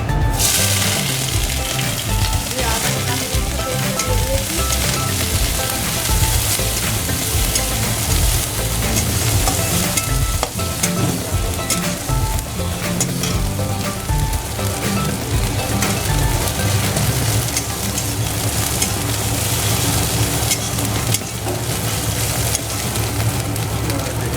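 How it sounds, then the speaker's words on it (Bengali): Ginger, garlic and green chilli paste fries in hot refined oil for samosa filling, giving a dense, unbroken sizzle that crackles like heavy rain for over twenty seconds without talk. "রিফাইন তেলটা তেতে যাওয়ার পর এখন এর মধ্যে আদা, রসুন, আদা, কাঁচা লঙ্কা পেস্টটা দেবো"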